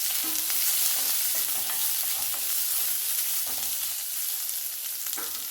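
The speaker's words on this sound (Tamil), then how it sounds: "அடுத்து ஒரு பெரிய சைஸு வெங்காயம் போட்டுக்கிறேன்" Chopped large onion and garlic frying in hot oil in a kadai for peanut chutney, a steady close sizzle with occasional stirring scrapes throughout.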